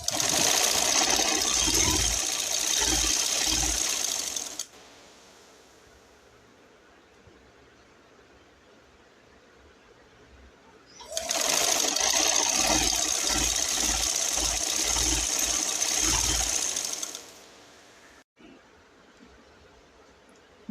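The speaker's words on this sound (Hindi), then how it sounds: "अब हम इसको फोल्ड करके इसकी सिलाई लगाना शुरू करेंगे" A sewing machine stitches folded trouser fabric in two long, loud, steady bursts with a quiet pause between them, and there is no speech.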